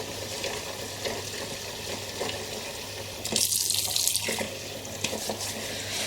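Tap water runs into a kitchen sink holding a dish soaking in dishwasher liquid, a soft steady splashing that swells briefly in the middle, faint and close with no talk.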